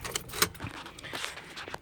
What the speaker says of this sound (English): I got my keys.